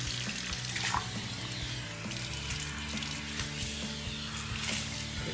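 Water from a salon sink runs over hair while shampoo is rinsed out, a continuous close splashing stream with a faint underlying buzz, steady throughout and without speech.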